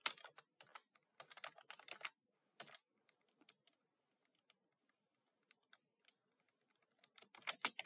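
Keys clatter on a computer keyboard while text is entered, coming in quick clustered bursts at the start and end with sparse single taps and quiet gaps between, close and soft, no speech.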